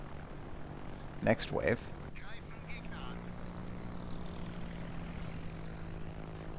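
Carrier aircraft engines drone in a naval video game, a steady low propeller hum running throughout, with someone talking briefly over it early on.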